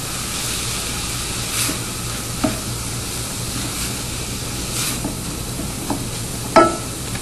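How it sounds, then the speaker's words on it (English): BBQ sauce ingredients, including mustard, crumbled basil and oregano, and ground chipotle, stirred in a pot: a low continuous simmering hiss with occasional soft scrapes of the spoon and a sharper clink near the end, no voices. "Give it a stir."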